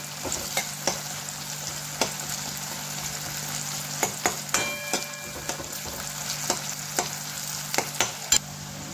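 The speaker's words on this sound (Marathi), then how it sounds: "आणि याला तेलामध्ये शिजवून घेऊ" Onions with salt cooking in oil in a pan for pasta, giving a low steady sizzle broken by frequent light scraping and stirring taps from a utensil, close by with no talking.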